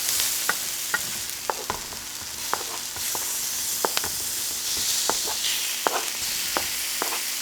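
Wine deglazes a hot pan holding browned liver, giving a steady hiss and sizzle broken by sharp pops and crackles at irregular intervals throughout.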